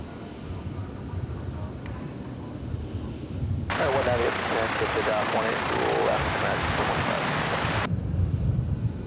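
A Qatar Airways Boeing 777 bound for Doha roars past at an airport at night, a broad jet rush swelling abruptly partway through and cutting off a few seconds later over a low background rumble.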